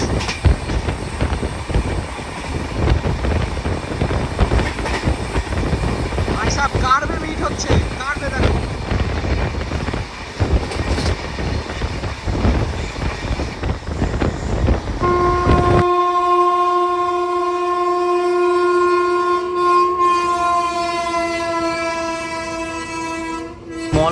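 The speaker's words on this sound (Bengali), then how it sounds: "সামনে দিয়ে ছুটে আসছে গৌড় এক্সপ্রেস।" The Gour Express races past close by near Mallarpur station with a loud, continuous rumble and rhythmic wheel clatter, then lets out a long, sustained horn blast that holds to the end.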